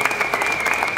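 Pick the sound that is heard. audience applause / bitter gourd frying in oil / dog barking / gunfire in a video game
audience applause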